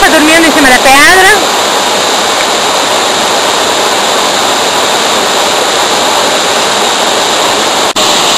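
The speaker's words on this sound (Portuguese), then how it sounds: "Essa aqui é a sexta cachoeira. Ela tem 120 metros." A 120-metre waterfall in Garganta do Silveirão, a loud steady roar filling the whole clip, with a brief voice-like warble at the very start.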